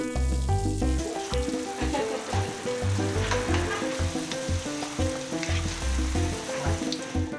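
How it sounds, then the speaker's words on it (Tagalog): Puto sulot dough fries in boiling oil, a continuous crackling sizzle running beneath loud rhythmic background music. "At saka ipiprito sa kumukulong mantika."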